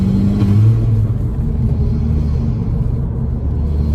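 Inside a 270 bhp stage 2 MK5 Golf GTI accelerating hard in second gear on a wet road, the wheels spin under a loud, continuous low drone that wavers slightly as the engine pulls.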